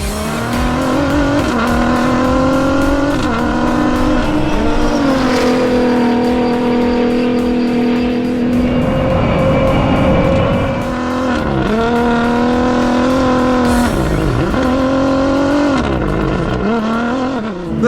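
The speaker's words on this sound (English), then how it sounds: "I can't believe how fast he goes over the speed bumps, into the corners" A Dakar-winning Toyota Hilux rally car engine roars continuously at high revs, pitch climbing and dropping through gear changes and braking over speed bumps and corners, loud and close with occasional tire noise.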